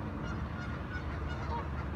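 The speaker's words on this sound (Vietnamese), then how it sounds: "có nhiều vịt trời, ngỗng, cò, sâm cầm" Geese on a bird island in a park honk in a dense, continuous chorus, loud and fairly near, with overlapping calls and no pauses, over a busy outdoor background.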